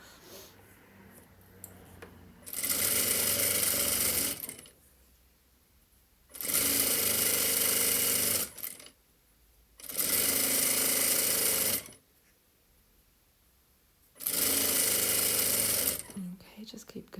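A sewing machine stitches a long trousers drawstring in four steady runs of two to three seconds each. Brief quiet gaps separate the runs, with faint handling sounds between them.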